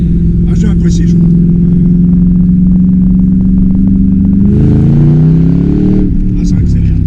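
A 2010 Ford Mustang V8 with a prepared engine and chassis accelerates, its loud engine note climbing steadily in pitch before shifting, with people talking over it throughout.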